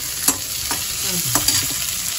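Onions frying in hot oil in a kadai, stirred with a few scraping strokes over a steady close sizzle, with no voices.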